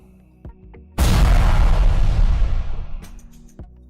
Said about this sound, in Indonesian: tiba-tiba ledakan yang keras terjadi dan itu sampai menggetarkan tanah